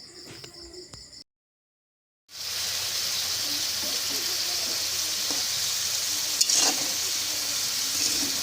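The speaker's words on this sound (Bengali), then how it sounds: "এখানে আমি চিংড়ি মাছগুলোকে ভেজে নিই" Shrimp frying in hot oil in a pan gives a steady, loud, close sizzle that runs unbroken for several seconds after a brief gap, with a faint bird coo in the background.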